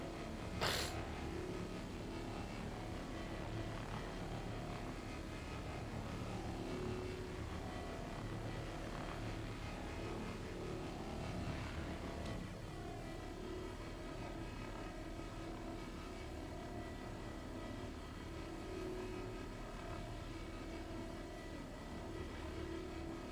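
Salvage scraping of a ship hull with the Vulture in Star Citizen: a steady, droning mechanical whir with a grinding hum holds throughout, marked by a sharp click near the start and a slight shift midway, with no talking.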